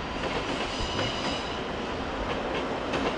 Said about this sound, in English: Meanwhile there's an old ICE train, a 1 or a 2.